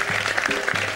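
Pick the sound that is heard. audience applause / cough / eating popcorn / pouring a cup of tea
audience applause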